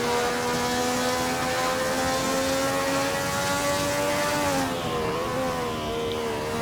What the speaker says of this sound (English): Hear that distinctive Ferrari sound.